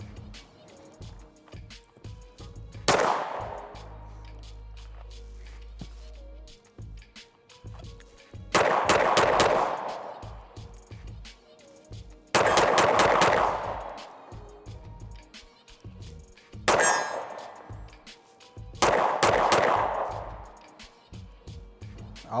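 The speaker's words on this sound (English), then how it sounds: "let's see if we can get a couple rounds on target" Five sharp, loud gunshots from a Daniel Defense H9 pistol at an outdoor range, spaced a few seconds apart, each a crisp crack with a short decaying tail.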